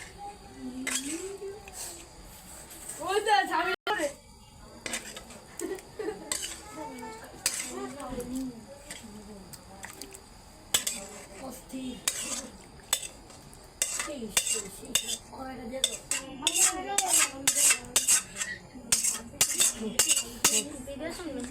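Metal spoon scraping and clinking against a metal kadai as cooked meat is stirred into khichuri, with repeated sharp clanks and scrapes in an irregular rhythm, while a person talks throughout.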